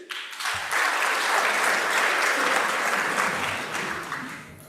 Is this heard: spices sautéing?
no